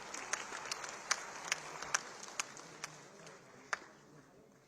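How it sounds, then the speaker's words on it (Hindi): Audience applause at a Chief Minister's employment fair ceremony, with scattered sharp claps over a soft steady wash of clapping, fairly distant and moderately quiet. "उन लगातार तालियों के साथ"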